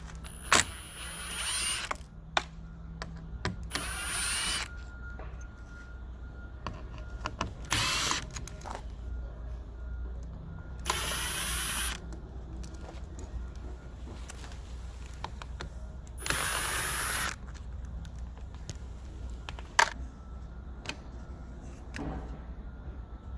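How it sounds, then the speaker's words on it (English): T15 Torx driver backing out screws from a door panel on a Mercedes W216 CL, close whirring bursts from a powered driver between quiet pauses, with occasional sharp clicks and knocks. "we're going to be using a T15 Torx"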